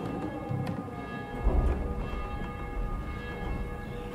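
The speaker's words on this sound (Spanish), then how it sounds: "Alguien está tocando las campanas, tío." Church bells ringing in the zombie survival game Dying Light. A distant metallic clang sits over a low rumbling ambience, with a fuller strike around the middle, and no talking.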